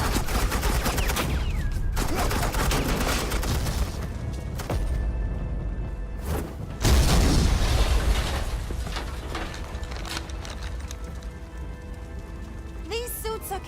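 Suppressing gunfire in a Batman Telltale game: loud rapid bursts of shots with sharp breaks between volleys, the firing dense at first and then easing into a quieter ringing tail.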